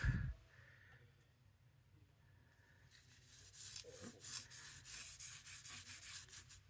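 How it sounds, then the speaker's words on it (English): Dottie tape pen foil rubbed by hand onto glued paper makes a soft, quiet scratchy rubbing, faint at first and then a run of close, rhythmic brushing strokes. "So I'm just going to take it and rub it around"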